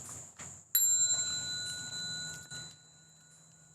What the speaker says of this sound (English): Bell sound